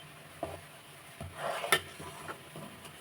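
Carrot and orange peel frying in oil in a pan, with soft sizzling under a few scattered stirring scrapes and clinks, close and fairly quiet, no talking.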